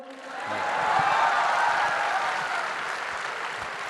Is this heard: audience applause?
yes